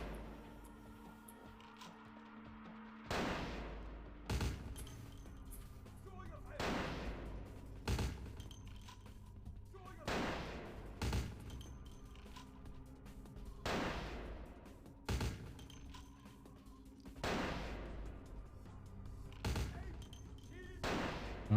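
Machine pistol gunfire in Vampire: The Masquerade - Bloodlines comes as a series of loud, sharp bursts, about ten of them spaced a second or two apart, each dying away quickly.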